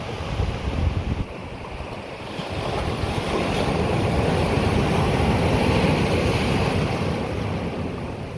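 Tidal water draining out over rocks on St. Martin's Island, with waves washing steadily and loud wind buffeting throughout, no voices.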